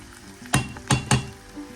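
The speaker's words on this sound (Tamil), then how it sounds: "அதோட வெந்தயம் அதுவும் ஒரு மிசக்கரண்டி அளவு சேர்த்து நல்லா வதக்குவோம்" Cumin, fennel and fenugreek seeds sautéing in oil in a pan for a cuttlefish curry: a close sizzle broken by three sharp spoon-on-pan clinks and scrapes in quick succession.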